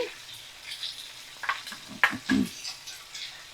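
Mustard and poppy seed paste goes into a pan over a low flame with a soft, patchy sizzle, broken by a few sharp clinks and scrapes of a spoon in otherwise quiet surroundings.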